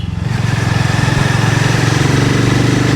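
A Hero Mavrick 440 motorcycle engine thrums steadily while riding, a loud, close, even low-pitched pulsing beat with wind rush and no talking.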